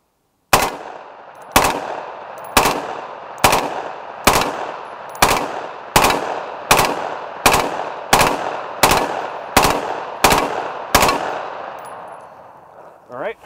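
Gunfire strikes hard body armor on a shooting range as the last magazine is emptied: thirteen loud, evenly spaced shots, each with a sharp crack and ringing decay, with no talk.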